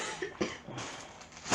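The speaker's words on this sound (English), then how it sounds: "That was the player actually coughing" A person coughs a few times in a game session, short rough bursts spaced out over quiet room noise, fairly faint and close to the microphone.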